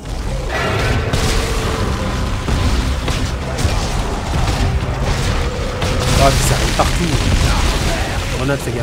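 A grenade detonates in Dead Space 3 co-op combat: a heavy boom followed by a long, rumbling run of blasts and impacts, loud and close, with excited voices talking over the chaos.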